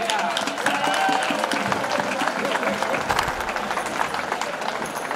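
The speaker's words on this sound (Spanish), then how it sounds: "Un fuerte aplauso para ella." An outdoor audience at a tuna contest in Lopera, Jaén, applauds loudly for a tuna music group, with crowd voices and strummed string music mixed into the clapping.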